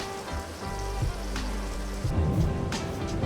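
Steady rain falls on a farm in Farming Simulator 22, a dense even patter with a low rumble beneath it and a few brief louder splashes, continuous throughout without talk.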